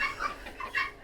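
A naked neck chicken on a farm gives a few quick, close clucks in about a second, alone with no other sound around them.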